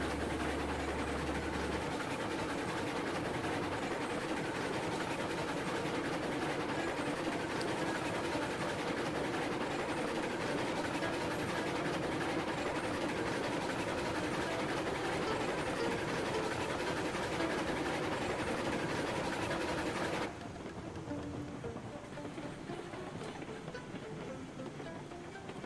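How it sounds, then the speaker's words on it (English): A heavy train in Railroads Online rolls around a curve under its own weight, making a continuous low rumble and clatter that holds steady for about twenty seconds and then drops to a quieter hum. "Kind of just letting the weight of the train pull me at this point, I believe, around this curve."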